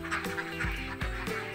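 Laying ducks on a farm flock, with loud nasal honking quacks in a few close bursts.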